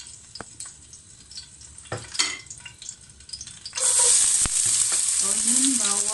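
Onion and garlic hit hot olive oil, jumping from soft kitchen clatter and light tapping into a loud, dense, continuous sizzle that stays strong and close, with no one talking.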